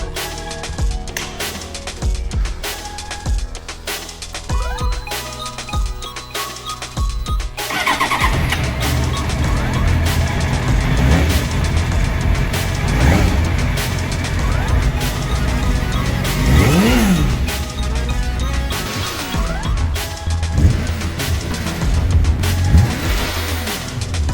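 A 24-year-old Suzuki GSX-R750 motorcycle, rescued from a scrapyard, cranks and catches, then idles loudly and revs up and down repeatedly at close range, with occasional voices under the engine.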